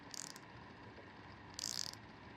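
A VIM Tools ratchet driver tightening a bolt gives two short bursts of rapid, crisp clicking while it turns, separated by over a second of quiet background hum.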